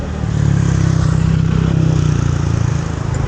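A Rusi 400cc motorcycle idles close by with a steady, loud, rumbling engine drone and a faint mechanical clatter, running unbroken throughout with no talk.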